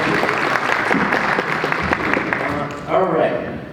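An audience gives itself a round of applause at the start of a live performance event, steady crowd clapping that carries through most of the moment and then tapers off as a voice comes back in.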